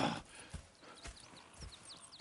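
Horses in the video game Red Dead Redemption 2, with a few hoof clip-clops and a brief whinny against a quiet outdoor game ambience with chirping birds.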